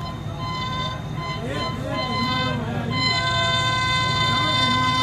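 The Shah Hussain Express, hauled by an H30 locomotive, passes at speed. A loud rumble runs throughout, with sustained horn tones rising and bending as the train goes by.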